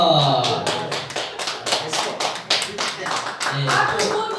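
Hands clap from an audience at a church service, a run of sharp separate claps with a few gaps between them, while voices talk over it at the start and end.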